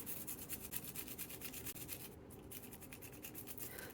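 A 1959 Gillette Fatboy razor is scrubbed with dish soap, giving a faint, close, continuous brushing and rubbing with rapid back-and-forth strokes.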